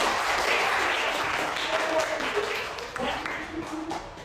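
Classroom applause from a group of students during a lesson presentation on small business, a steady patter of clapping with some voices mixed in, fading slightly toward the end.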